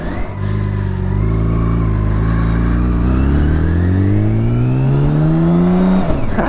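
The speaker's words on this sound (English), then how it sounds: "that car is going a whole lot faster than I predicted" A car speeds past on a windy highway, its loud, close engine note rising steadily in pitch for several seconds before abruptly dropping away.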